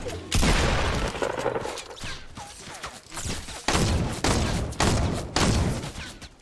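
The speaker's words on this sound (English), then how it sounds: "There's literally three people shooting at me, bro." Gunfire from several players in the video game Fortnite hits as loud, close volleys of shots, arriving in clusters with short gaps and strong impacts, and no clear talking.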